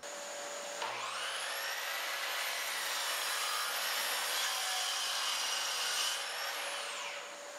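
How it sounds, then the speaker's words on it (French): A power saw rips through a wooden plank being cut to size for a kitchen table, one steady loud whining cut of about five seconds with rising start and falling finish, no talking. "faites la coupe pour éliminer ce qui n'est pas bon"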